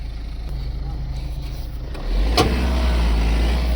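A Mahindra Scorpio N stuck in desert sand in Rajasthan, its engine held at a steady drone that jumps louder and deeper partway through as it is revved, with a sharp knock at the surge.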